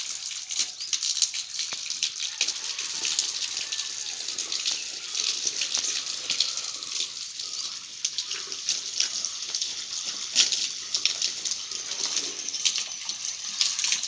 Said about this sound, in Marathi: बघा तिकडे पाणी पण मारत